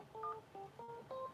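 Telephone keypad tones sound during a phone call: four short, clear DTMF beeps in quick succession, moderately loud, with no talk over them.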